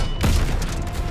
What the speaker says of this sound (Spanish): ¡Tanque enemigo destruido!